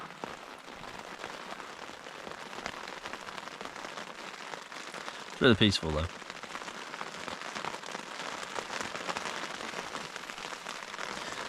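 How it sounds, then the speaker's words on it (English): Steady rain patters on a surface throughout a wild camp on Derwent Edge in the Peak District, a soft continuous hiss, with a brief spoken remark midway. "The rain's really coming in now."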